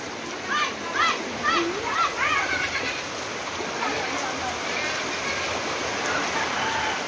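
Floodwater rushing steadily past a house in a flooded barangay in San Isidro, Bulan, Sorsogon, a continuous broad wash of flowing water with a few voices talking over it near the start.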